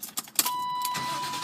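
A BMW 3 Series E36 engine cranks briefly in a few quick bursts, then catches and settles into a steady idle, close and fairly loud, with no talk.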